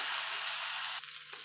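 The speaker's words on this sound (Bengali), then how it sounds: "এবার আদা কাঁচা গন্ধটা যাওয়া পর্যন্ত একটুখানি নাড়াচাড়া দিয়ে নেব।" Ginger and green chili paste fries and is stirred in a pan, a brief steady close sizzle with a faint scrape as the stirring shifts.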